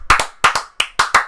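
Close, loud hand claps in quick pairs and singles, a few people clapping in an irregular rhythm for about a second.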